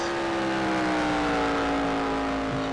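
Ferrari race car in a racing video game, engine holding a loud, steady high whine, close and continuous with no talk.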